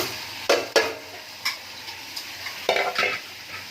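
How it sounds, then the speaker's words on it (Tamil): Rice is tipped into a hot cooking pot, giving a few sharp stirring scrapes and clatters over a soft background sizzle, close by and with no voices. "அரிசியை போடுறேன்."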